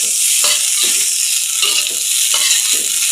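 Fried rice is stir-fried in a pan, giving a constant loud sizzle broken by rhythmic scraping strokes of a spatula roughly every half second, close up with no talking.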